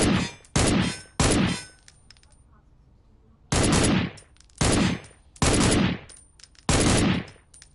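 EBR rifle in a video game firing single heavy shots, seven loud sharp cracks spaced irregularly with brief echoing tails and near silence between them.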